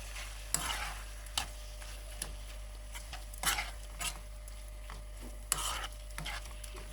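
Chopped mixed herbs stir-fried in a pan for a festive Talysh meal: a low, quiet sizzle under a steady hum, punctuated by several sharp scraping strokes of a utensil stirring at irregular intervals.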